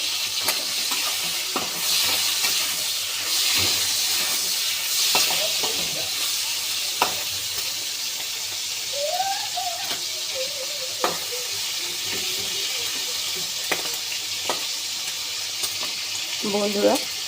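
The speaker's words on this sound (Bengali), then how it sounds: "বন্ধুরা, আমি চিংড়ি মাছটা ভেজে নিচ্ছি।" Prawns fry in a pan with kala jeera, dried chillies and bay leaves, giving a steady broadband sizzle with occasional stirring clicks and scrapes, close and continuous throughout, with a faint voice briefly in the background.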